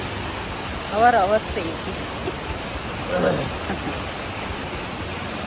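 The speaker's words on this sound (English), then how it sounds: "Now here it's heavily raining. It's not at all stopping." Heavy monsoon-style rain pours steadily in Goa, a dense, continuous hiss throughout, with a voice briefly speaking over it.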